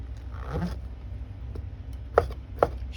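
A knife slices mushrooms on a board for sotanghon soup, a soft scraping stroke followed by two sharp, distinct chops against a low kitchen hum.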